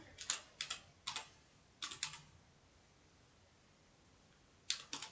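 Typing on a computer keyboard, heard as short bursts of quick key clicks separated by pauses, fairly quiet and close, with no talking.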